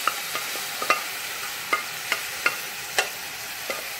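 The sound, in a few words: stirring sabudana and carrot kheer in a pan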